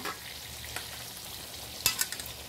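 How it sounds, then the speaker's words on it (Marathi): Fried onion tipped into a pan of cooking vegetables for veg biryani, a soft steady sizzle with a few scraping stirs and a clattering burst near the end; no talking. "आता आपण त्यामध्ये हा तळलेला कांदा घालूया."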